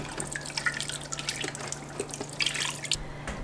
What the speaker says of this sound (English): I'm just going to use some store-bought beef broth